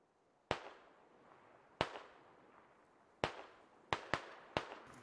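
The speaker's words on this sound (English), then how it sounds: "Russian forces just tossing out random fire" Gunfire in the Squad video game: six sharp, echoing reports with ringing tails, spaced over about five seconds with two close together near the end, heard alone and sounding fairly distant.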